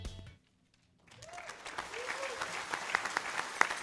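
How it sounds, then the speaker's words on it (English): Audience applause at a small business awards ceremony swells in after a brief silence and holds as a dense, steady wash of clapping with a voice faintly over it. "Also, as long as you're applauding,"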